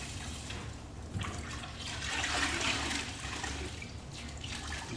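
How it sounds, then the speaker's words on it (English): Wet grout sponges wrung out over water for a tile backsplash, giving a soft continuous splashing and trickling of water that swells briefly in the middle, faint and close. "We're going to get these and just wring them out."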